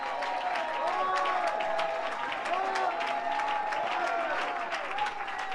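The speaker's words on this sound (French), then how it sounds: "A hand of clap to the Lord." A church congregation claps and cheers loudly throughout, dense steady applause mixed with voices calling out and speaking over it.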